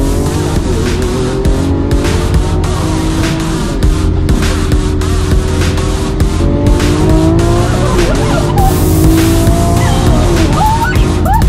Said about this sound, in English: So now the car's in Corsa mode. Corsa. It's a little faster. I love the engine now.